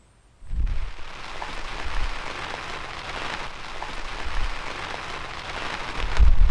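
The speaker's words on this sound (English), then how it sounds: "The first hour is pretty quiet, a little pitter patter of rain" Light rain patters steadily across an outdoor hunting blind beside a small water hole on a cool, rainy opening day, a soft even hiss with a few heavier drops and low thumps.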